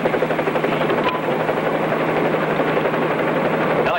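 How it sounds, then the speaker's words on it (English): A helicopter flies close by, its engine and rotor making a loud, steady drone with a rapid chopping pulse throughout. "Helicopter 3-8 Bravo to Chief Palmer"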